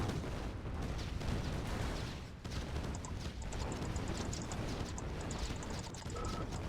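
Patriot missile batteries firing in the strategy game Red Alert 2, a dense crackle of rapid launches and distant blasts layered with short electronic beeps, steady and fairly loud throughout.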